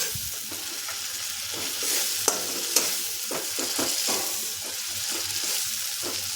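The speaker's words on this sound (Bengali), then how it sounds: "এখন মশলাটা ভালো করে কষে নিতে হবে দিয়ে দিচ্ছি লঙ্কা কুচি" Spice masala with chopped green chillies sizzles steadily in a pan for a sprouted moong tarka, with repeated scraping strokes of a stirring spoon and a couple of sharp clinks.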